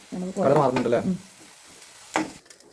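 Onions frying in a pan for chicken biryani, a short burst of sizzling and stirring followed by a quieter hiss and a brief scrape.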